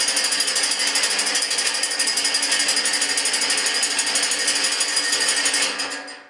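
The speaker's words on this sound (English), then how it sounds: "there's another way of shaking this, and that's instead of spinning the handle, is going back and forth with it, oscillating it" A gasifier grate rattled hard as its handle is oscillated back and forth, giving a dense, rapid metallic clatter that runs steady and loud for about six seconds and then quickly fades out.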